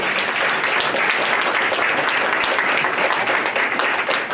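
An audience at a legislative forum claps in a dense, sustained round of applause, loud and continuous throughout with no talk over it.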